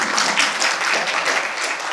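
Audience applause at a talk on the poet Bharathi at Park 63, a dense, steady wash of many hands clapping together, fairly loud and continuous for the whole stretch with no voices over it.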